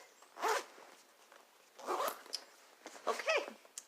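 A bag's zipper pulled closed three separate times, each a short rasping zip up close against a quiet room, evenly spaced about a second and a half apart.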